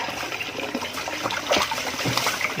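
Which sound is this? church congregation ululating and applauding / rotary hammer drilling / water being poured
water being poured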